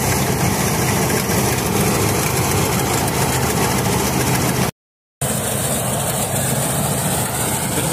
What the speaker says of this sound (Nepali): धान काट्ने मेसिनले धान काट्दैछ